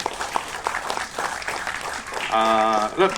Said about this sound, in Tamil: அந்த கேமராமேன் பிரதருக்கும் நல்ல பலத்த கரகோஷம் கொடுங்க இந்த நேரத்தில்